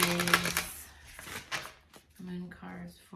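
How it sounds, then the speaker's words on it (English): A Moonology tarot card deck is shuffled by hand in quick papery riffles and taps, close and moderately loud, in short bursts broken by pauses. "Got the Moonology deck, and I am going to shuffle this deck."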